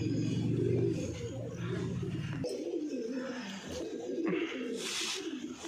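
Pigeons coo softly inside a pigeon loft in Nagercoil, low rolling calls repeating over faint background noise.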